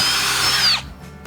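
A power drill whines loudly as it drives a screw into tiny house siding, its pitch dropping sharply as the motor stops after under a second, followed by faint handling noise.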